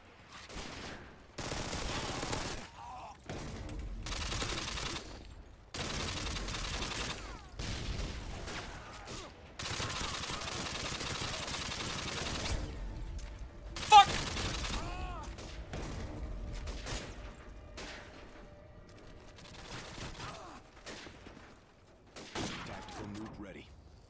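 Machine pistol gunfire in Modern Warfare 2 (2009), repeated rapid bursts of automatic fire separated by short pauses, loud and close, with a voice in between.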